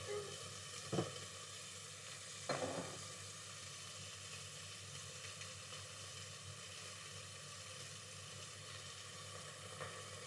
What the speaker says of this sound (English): I don't know if you can hear me over the sizzle.